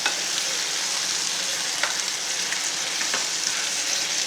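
Chicken liver masala fry in a pan, a dense, bright, unbroken sizzle with occasional faint scrapes of a spoon stirring, close and even in loudness.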